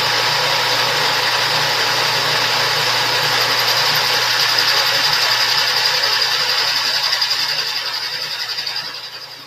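A metal lathe turns a slightly out-of-round metal ring while taking a very small cut, giving a steady, loud mechanical whir and hum with a faint high whine that tapers off near the end.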